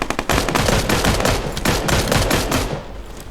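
Automatic weapon fire in the battle royale game PUBG, rapid loud bursts of shots crackling in quick succession for about three seconds before tapering off.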